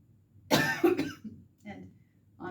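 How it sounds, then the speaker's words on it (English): Person coughing during a myofascial release self-treatment session: one sharp, close cough burst followed by a second hit, then softer throat sounds and breathy murmurs. "I can feel an old cough."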